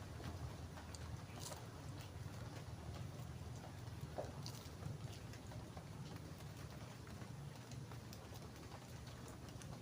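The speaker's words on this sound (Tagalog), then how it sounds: "inabot tayo ng ulan" Rain falls steadily outdoors in a faint, continuous wash of patter with a low rumbling background and no voices.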